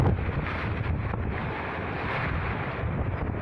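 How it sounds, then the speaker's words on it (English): Strong wind gust roaring outdoors during a storm, with downed trees and a falling fence nearby; a loud, steady broadband buffeting rushes across the microphone throughout with no voices. "we had one heck of a gust coming through right now"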